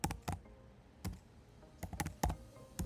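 Typing Java code on a computer keyboard: sparse, close key clicks in uneven bursts, fairly quiet, with no talking.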